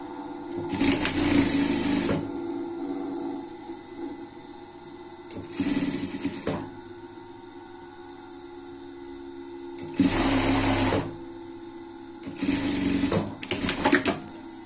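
A sewing machine stitches the side seams of a frog-style pet costume, running in four loud bursts of several seconds each, separated by quieter pauses with a low steady hum.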